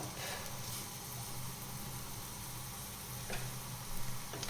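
Steady sizzling of onions frying in a pan, a continuous hiss with a couple of faint clicks near the end, no voices.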